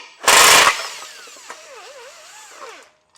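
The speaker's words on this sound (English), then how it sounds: "we do need to remove this bolt. This will be a 13mm socket to get that taken out" A power tool fitted with a 13mm socket removes a bolt on the passenger side of a vehicle during a trailer hitch installation. It opens with a loud, harsh burst of about half a second, then whirs down with a wavering whine and a few faint clicks.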